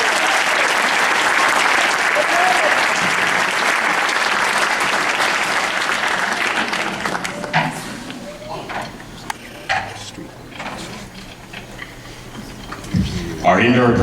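An audience at a Lincoln High School marching band chicken dinner event in Sioux Falls gives loud, sustained applause that fades into scattered claps, clatter and murmuring voices.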